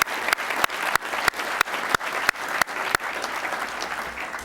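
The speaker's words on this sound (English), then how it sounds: "Let's give him a big round of applause." Conference audience at Georgetown University applauds with sustained, dense clapping from a crowd, punctuated by a few sharp louder claps, fairly close and steady throughout.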